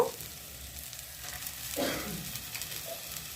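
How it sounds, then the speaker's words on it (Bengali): Ginger garlic paste and Kashmiri chilli fry in oil for a fish curry with potato and cauliflower. A soft, steady sizzle runs throughout, with one louder stirring swell midway, close by and without talking. "এবারে এর মধ্যে দিয়ে দেব আমি আদা রসুন পেস্ট দু চামচ পরিমাণে আদা রসুন পেস্ট দেব"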